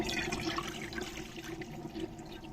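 One to one and a half litres of water pour into a kadhai in a steady, hissing splash, close and fairly quiet, continuing for a few seconds with no talking.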